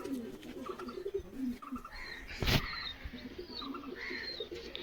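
Pigeons cooing in a loft in Habra, soft low repeated coos with faint chirps, plus a brief sharp knock or flutter in the middle, heard at a quiet to moderate level.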